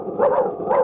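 A voice imitates a dog barking with his mouth, two short, close, voiced woof-like bursts within a second, alone without other talk.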